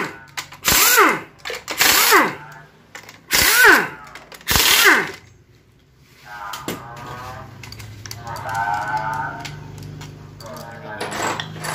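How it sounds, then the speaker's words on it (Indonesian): A power tool unscrews the transmission oil pump bolts on a Toyota Harrier automatic gearbox: four loud whirring bursts with rising-falling pitch, then a softer mechanical buzz and rattle under a low shop hum. "Oke, dibuka dulu baut pompa olinya."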